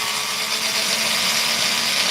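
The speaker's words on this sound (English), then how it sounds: "Let's get the screws out." Power tool backing screws out of a DeWalt battery tool during a repair, a loud, steady, close-up whirring grind that runs unbroken with no talking.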